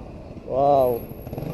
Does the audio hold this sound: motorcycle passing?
yes